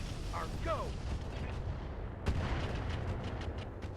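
In the RogueTech mech game, weapons fire together: a sharp blast followed by a rapid series of cracking shots over a dense rumbling bed, with brief whistling tones just before.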